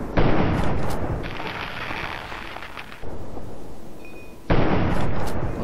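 Gunfire aimed at giant soldier ants in the video game Fallout 3, heard as loud, dense bursts of shots and blasts that pause briefly, resume at three seconds, then come back hard near the end.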